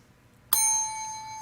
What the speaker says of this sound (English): Whoever rings the bell gets to answer, okay?